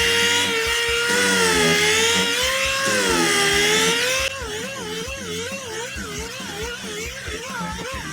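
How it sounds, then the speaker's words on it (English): Bondo filler on motorcycle seat foam is sanded with a power sander, which whines loud and close, holding a steady pitch and then dropping to a lower, wavering whine halfway through as the load changes. "get the other side sanded down"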